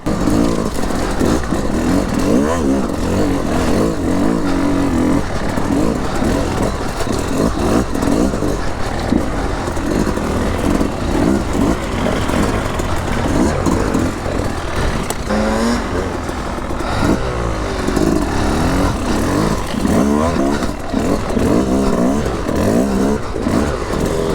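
A two-stroke hard enduro motorcycle rides hard and revs continuously close by, its engine note rising and falling with clattering and scraping over rough ground for the whole stretch.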